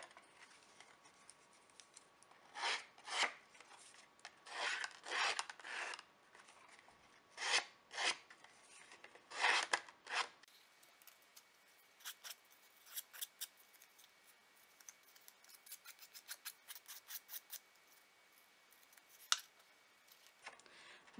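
A scissor blade scores and scrapes along the edges of paper, repeated short rasping strokes in uneven bursts, close and quiet with no other sound.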